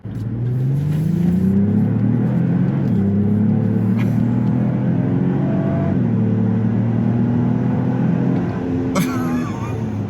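A 2024 Lexus GX550 SUV in sport mode revs up hard and climbs through gears, the deep roar rising in pitch with each shift, heard close from inside.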